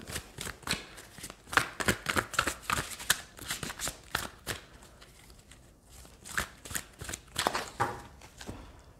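Oracle cards are shuffled close by before a tarot reading, giving a run of quick papery riffles and flutters in uneven bursts, with a brief lull partway through; no one speaks.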